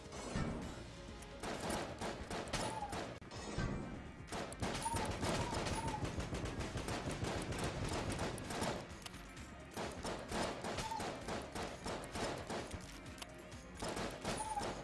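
Continuous rapid gunfire in Enter the Gungeon, dense bursts of shots and crashing impacts over about fifteen seconds, busy and steady with brief dips, game music and effects layered underneath.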